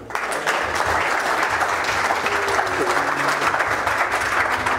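Church congregation at a French-language evangelical prophecy service applauding continuously, a dense steady wash of many hands clapping throughout, loud and sustained with faint voices mixed in.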